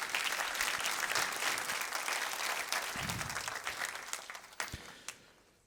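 A church congregation applauds together, with steady dense clapping from a large crowd that slowly thins and fades, heard at a distance in a big room.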